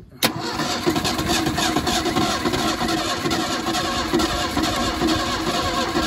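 A 1977 Ford Mustang II engine, off the road since 1989, cranks continuously after a sharp start, a steady loud churning drone with a rattling texture that runs the whole stretch without catching.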